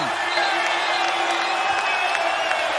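Basketball arena crowd at a Boston Celtics home game, 2017-18, roaring with oohs and cheers after a play, a steady loud wash of voices throughout.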